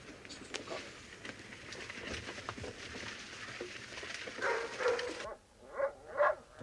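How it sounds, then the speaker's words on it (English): Dogs barking at night in a quiet country setting, a few yips and barks standing out clearly near the end after a stretch of dull background rumble. "The dogs. Confounded animals. Something's disturbed them."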